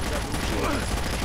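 Gunfire in the Rainbow Six: Vegas video game crackles in a dense burst of rapid shots, loud and continuous over a short stretch, mixed with game noise and a voice.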